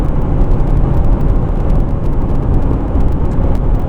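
2012 Volvo V70 D3 diesel, D5204T3 engine, held at 3000 RPM under full throttle: a loud, steady, dense engine roar with a low drone and no breaks, heard close up.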